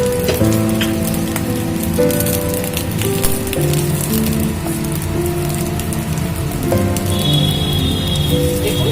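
Bay leaf and cardamom frying in ghee give a steady, dense crackling sizzle that continues without a break, with tonal background music layered over it throughout.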